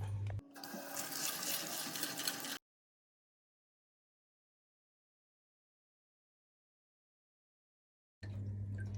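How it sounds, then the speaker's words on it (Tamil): Peanuts being washed in water, heard as a close, steady rush of splashing and swishing water for about two seconds, then silence, then a brief return of water noise at the end, with no voices. "இதை நாங்கள் ஒரு தண்ணியில் கழுவுவோம்."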